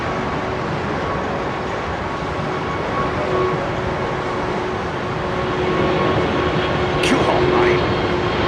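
An airliner climbs out after takeoff at Heathrow, its undercarriage retracting in a light crosswind; a steady, broad jet roar holds at constant loudness throughout, with a voice speaking briefly over it.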